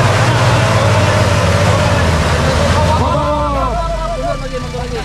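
A modified Ford Ranger engine revs loudly and continuously while offroading, a steady low drone that eases slightly toward the end, with a voice calling out over it.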